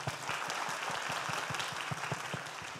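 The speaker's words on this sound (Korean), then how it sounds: "큰 박수 부탁드리겠습니다." An audience at a stage show applauds, steady clapping from a crowd with distinct individual claps throughout, fairly close and continuous.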